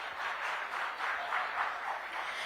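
An audience applauds at a televised stage event, a steady, faint wash of clapping from many hands that holds evenly throughout without a break.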